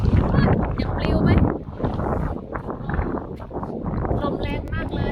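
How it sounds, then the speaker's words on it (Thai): Strong wind sweeps across an open lookout area and buffets the microphone with low, gusting rumbles. A person talks throughout over the wind. "ลมแรงมากเลย"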